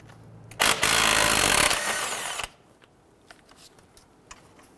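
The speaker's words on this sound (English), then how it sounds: "Using an 18mm socket, we're going to go ahead and loosen and remove the nut on the lower portion of our sway bar end link." An 18mm socket loosens the lower nut on a sway bar end link of a 2011-2021 Jeep Grand Cherokee, heard as a loud, dense burst of power-tool rattle lasting almost two seconds, then quiet with a few faint clicks.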